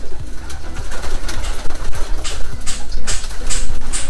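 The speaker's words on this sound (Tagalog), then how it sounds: "Oh, ito sila mga kalapati." Pigeons, including brown ones, coo in low, repeated murmurs, with faint birdsong and scattered chirps higher up and a steady background hum.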